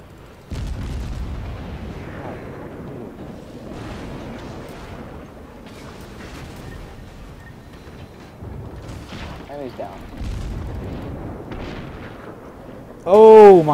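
Naval gunfire in the World of Warships video game, with repeated booming cannon shots and explosions rumbling throughout at moderate loudness, under excited talk and a louder burst near the end.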